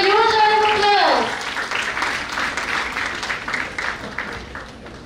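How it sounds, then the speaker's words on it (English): An audience at the India-Japan Fest BICON 2018 in Jaipur claps for a professor coming onto the stage, as a loud, steady wash of applause that rises after an announcer's voice and then slowly dies away. "with a huge round of applause"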